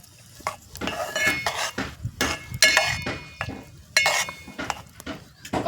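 Jowar (sorghum) stirred in hot oil in a pan: a metal spoon scrapes and clinks against the pan in irregular strokes, close and clear, over a faint sizzle.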